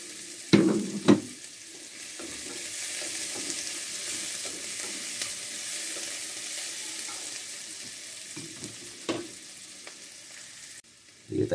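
Onion and garlic sautéing in a pan, a steady sizzle running throughout with a few sharp clanks of stirring near the start and again toward the end.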